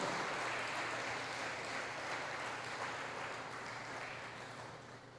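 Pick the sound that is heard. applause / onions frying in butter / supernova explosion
applause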